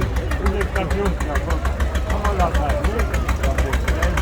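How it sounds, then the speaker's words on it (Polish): A 1956 Zepol 25T tractor pulls a trailer in a parade, its low engine throbbing in a steady idling rhythm close by, heard beneath a continuous speaking voice. "na przyczepie ciągniętej przez traktor Zepol 25T z roku 1956"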